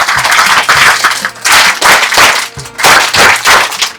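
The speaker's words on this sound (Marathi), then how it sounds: "एकदा माझ्या गुरुवर्यांसाठी जोरदार टाळ्या होऊन जाऊ द्यात" A crowd at a school gathering claps loudly in honour of a former teacher, the claps coming in uneven, pulsing bursts with brief dips between them, close and sharp.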